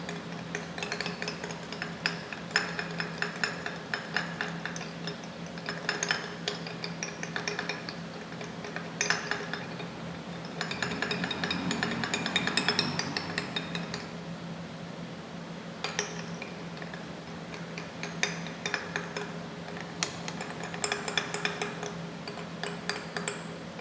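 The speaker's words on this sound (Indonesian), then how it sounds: "Masih diaduk" Sulfuric and nitric acid mixture being stirred in laboratory glassware, giving steady light clinks and scraping taps that recur throughout, close and fairly quiet over a faint constant hum.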